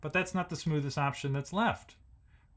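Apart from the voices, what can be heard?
None of the usual background noises is heard.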